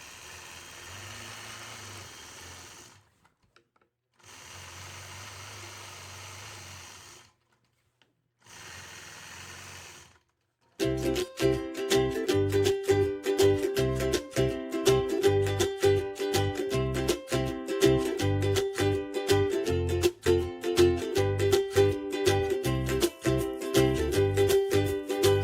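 Quilting machine stitching in the ditch around the outside of a quilt block: a few short whirring runs with pauses, then a long, loud, steady rapid needle chatter that continues without a break, close up, with no talking.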